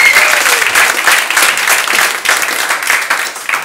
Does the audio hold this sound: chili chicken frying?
no